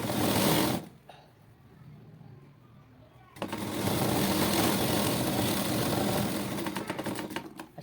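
Sewing machine running steadily as it stitches a box strip on a blouse, a continuous loud whir that starts, pauses briefly, then resumes and runs on.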